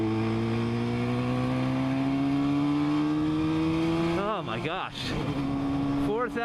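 A 1972 Yamaha RD 350 motorcycle engine revs loudly and steadily, its pitch climbing slowly before a few sharp throttle blips near the end, heard up close.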